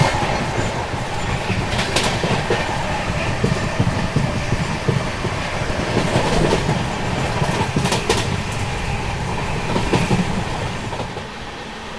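The Bhagat Ki Kothi Express rolls along the rails in a dense, continuous rumble with rhythmic clickety-clack, heard from inside the train at a steady, loud level.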